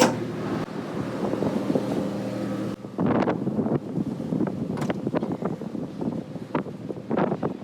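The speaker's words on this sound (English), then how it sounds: "It's a tad bit windy." Strong 27-knot wind buffets the microphone aboard a boat at anchor, a steady roaring rush with gusty bursts and thumps, loud and close throughout.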